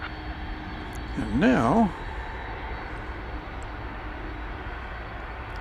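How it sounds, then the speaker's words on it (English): A UPS Boeing 767 jet takes off from runway 18 left at DFW Airport at night, a distant steady engine roar running beneath a short spoken phrase. "this is UPS Flight 767. It is going to Louisville."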